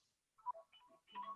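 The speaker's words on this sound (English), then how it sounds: "Wouldn't you know the phone would ring just now?" A telephone sounds in an indoor setting with a few short, faint electronic tone bursts separated by brief gaps.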